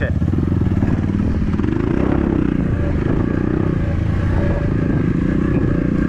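A KAYO TSD 110 enduro dirt bike engine runs loud and close during a training ride, revving steadily with a throbbing rhythm as the throttle is held open, with clattering mechanical noise and a voice speaking over it.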